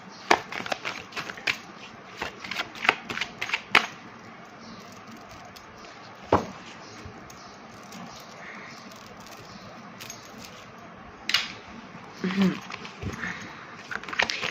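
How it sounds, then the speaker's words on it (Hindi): Tarot cards are shuffled by hand in a series of soft, uneven riffles and flicks, clustered into bursts with short pauses and some faint background rustle. "चलिए कार्ड को शफल करते हैं और देखते हैं एनर्जीज में क्या आ रहा है।"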